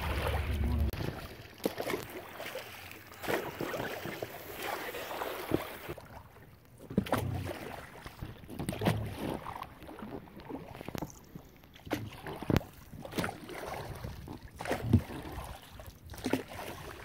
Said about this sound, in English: Bit of a problem, but we're paddling across now.